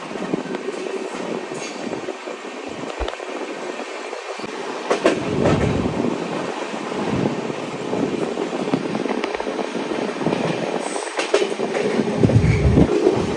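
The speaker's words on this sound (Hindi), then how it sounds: "हम लोग अच्छे खासे स्पीड से निकल रहे हैं गाजियाबाद जंक्शन से" The 12260 Bikaner–Sealdah AC Duronto Express on Indian Railways runs at speed out of Ghaziabad Junction, making a loud, continuous rumble with rhythmic clickety-clack of wheels over rail joints.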